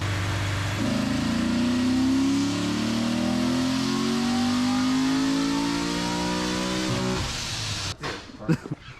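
A Chevrolet Corvette C6 engine pulls hard on a dyno, its tone rising steadily in a loud, sustained rev toward about 7,600 RPM before cutting off abruptly, followed by brief pops and rattles.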